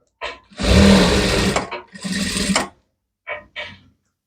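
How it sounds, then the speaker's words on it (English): A sewing machine stitching a kimono jacket seam in two loud, close bursts of rapid whirring, followed by a couple of short, softer runs of the motor. "So I'm sewing all the way, like I said, all the way."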